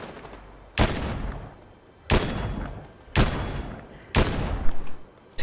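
Gunfire from a weapon in the video game Fortnite: four loud, sharp bursts spaced about a second apart, each cracking out and tailing off, with only faint background between them.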